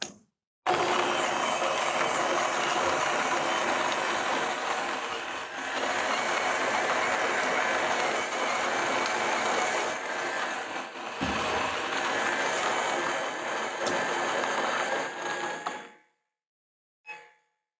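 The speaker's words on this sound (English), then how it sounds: "So now we're gonna push 13 grams of coffee through the grinder" Option-O Lagom Mini coffee grinder working through 13 grams of coffee beans, a continuous gritty crunching whir that runs for about fifteen seconds with brief dips, then stops, leaving silence.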